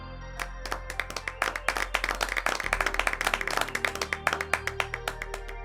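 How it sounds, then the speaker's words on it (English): A canned applause sound effect played over a Blender modeling livestream: a dense burst of crowd clapping that carries steadily for several seconds, fairly loud and with no talk over it. "I actually do have an applause sound."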